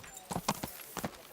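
A few quick hoof clops from a horse in the Kingdom Come Deliverance video game, close and fairly light, spaced unevenly over a brief moment.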